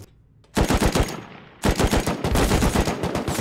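Loud sustained bursts of light machine gun fire in a shooter video game, two long rapid strings of shots with a short break between, close and dominant with no talk.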